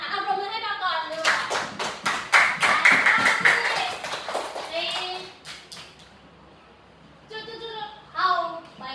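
A class of young children claps together in a schoolroom, a loud burst of rapid, dense applause lasting a few seconds, with a teacher's voice speaking before and after it.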